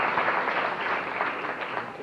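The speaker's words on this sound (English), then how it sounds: "I think that deserves a round of applause." Guests at a wedding reception give a dense, even round of applause that fills the room and holds steady throughout.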